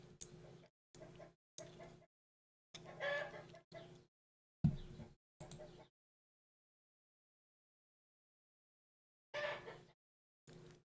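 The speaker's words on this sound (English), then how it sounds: "Do you hear that stupid rooster outside my window?" Rooster outside a window, a series of loud clucking and crowing calls in separate bursts with long silent gaps between them.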